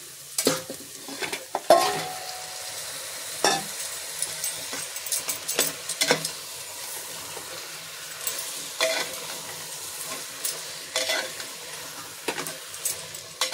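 Mutton fries in a spice masala that has released its oil. A continuous sizzle runs under repeated sharp scrapes and clacks of a spatula against the pan, irregular and close, with no voices.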